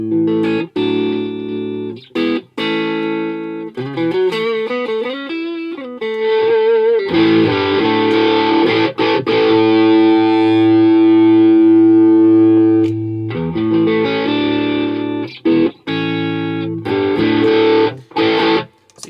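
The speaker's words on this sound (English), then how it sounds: "It's the same kind of classic distortion sound." A loud distorted electric guitar played through a Rat or MCE Battlehammer distortion pedal plays chords and sustained notes with a gritty, saturated tone, broken by short pauses between phrases.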